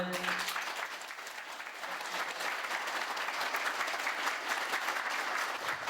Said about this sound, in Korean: 뜨거운 박수도 쳐주세요